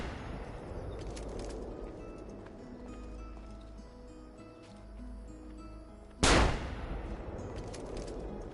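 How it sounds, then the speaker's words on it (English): A hand cannon fires in Assassin's Creed Brotherhood, one loud, sharp blast with a brief decaying boom that breaks abruptly through a quieter bed of game ambience and music. "Imagine firing a cannon from your hands."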